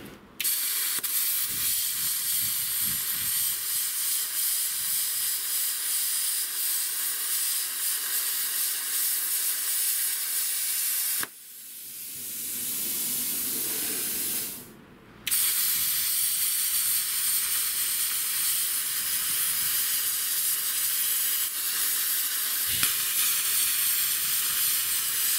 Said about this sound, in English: I use plasma cutters for bulk material removal.